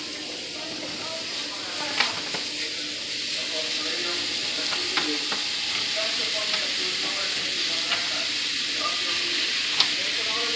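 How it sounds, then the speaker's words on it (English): Fajita meat added to a hot frying pan with vegetables, giving a steady, continuous sizzle with occasional small pops and stirring scrapes throughout, close by, with people talking faintly under it. "he's just putting the fajita meat"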